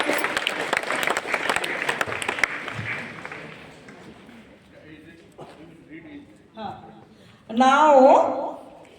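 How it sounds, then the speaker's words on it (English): A school audience claps for a student being honoured for his book on nature, dense and steady at first, then thinning and fading away before a voice briefly speaks at the end. "you give a big round of applause to him"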